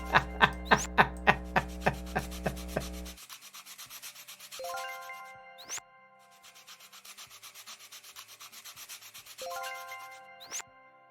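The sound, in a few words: sanding wooden toy parts in Toy Tinker Simulator video game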